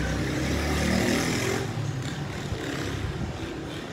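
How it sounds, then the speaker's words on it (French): A motorcycle passes by outdoors, its broad engine roar building loudly over the first second and a half, then fading into a fainter rumble as it moves away. "c'était une très belle moto qui est passée là"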